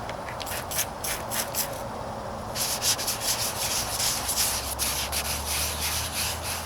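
The white hood of a 1998 Toyota Corolla is wet sanded with a long sanding block in brisk back-and-forth strokes, close and loud, the rubbing growing heavier and steadier partway through.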